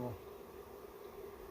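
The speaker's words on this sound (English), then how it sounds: "look how many more bees are behind there" Honey bees buzz during a 2022 hive removal in North Brookfield, a faint, continuous insect hum in the background with no clear speech.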